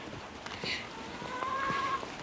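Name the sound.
heavy rain falling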